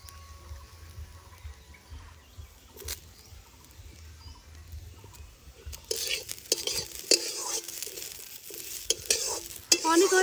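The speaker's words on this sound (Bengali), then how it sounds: "সুন্দর করে ভেজে নেব।" Rice fries in a pan with cashews and raisins; the first half is quiet with faint clatter, then a sizzling, crackling fry with stirring scrapes picks up and grows louder toward the end.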